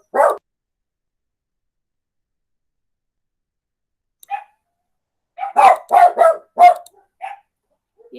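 A pet dog barks in a home during an online class, one sharp bark at the start, a short bark near the middle, then a close, loud burst of several rapid barks with scattered yips after a quiet gap.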